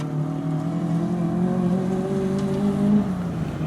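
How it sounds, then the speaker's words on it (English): A Toyota 1600 twin cam rally car at a forest rally stage holds a sustained engine note that climbs slightly in pitch. The engine sings steadily from a moderate distance through the trees, with no voices. "for a 1600 twin cam, singing out through the trees in Toyota Motorsport colours"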